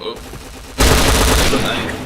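Sustained gunfire in the shooter game Point Blank, a loud continuous burst of rapid shots that starts abruptly after a short quiet moment and carries on to the end.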